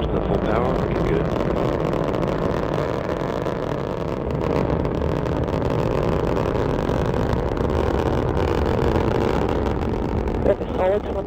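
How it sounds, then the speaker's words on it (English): Steady, powerful roar of a SpaceX Falcon 9 first stage with its engines at full power during ascent, dense and unbroken, with a voice talking over it. "First stage engines at full power"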